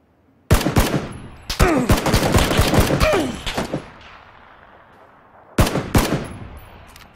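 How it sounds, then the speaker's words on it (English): Loud gunfire bursts in the battle game PUBG, shotgun blasts mixed with rapid shots, a long cluster of reports followed by a pause and a second short volley, close and sharp. "That's a shotgun."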